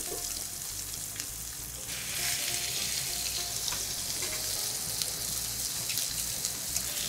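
A block of steak searing in a smoking-hot frying pan over medium-high heat, a steady loud sizzle and crackle throughout that swells a little after about two seconds, with no voices.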